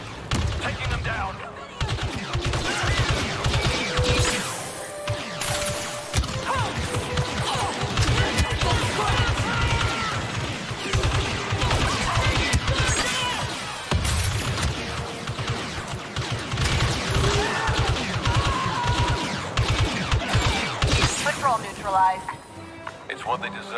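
Star Wars Battlefront II battle on Endor: rapid, dense blaster fire crackles and bursts almost continuously, with explosive crashes and impacts layered under voices shouting over the fighting.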